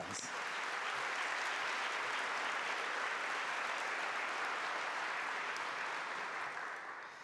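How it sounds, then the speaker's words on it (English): An audience applauds steadily, a dense wash of clapping that holds for several seconds before easing off slightly at the end. "Give them a round of applause."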